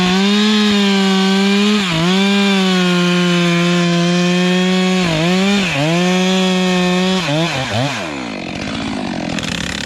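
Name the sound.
chainsaw cutting timber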